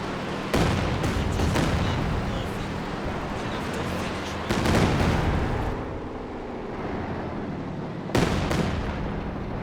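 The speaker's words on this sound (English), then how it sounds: "There's the Katyusha barrage." A Katyusha rocket artillery barrage in the video game Company of Heroes 2 makes a dense, rumbling roar of rapid blasts, with sharp crashing peaks recurring every few seconds over continuous battle noise.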